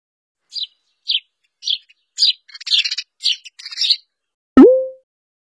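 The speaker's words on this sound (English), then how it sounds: "Sparrow." A sparrow chirps in a series of quick, high tweets, spaced at first then tumbling together, close and clear, followed by a short tone.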